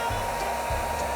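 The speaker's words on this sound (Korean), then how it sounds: "이 바나나를 이제 꺼내가지고 이제 드라이기로 쐬면은" A hair dryer blows a steady, loud whoosh of air onto a banana, the airflow roaring continuously at close range with slight pulses in pitch.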